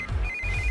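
A phone rings with a short electronic tone, a steady high beep pulsing over a low background hum.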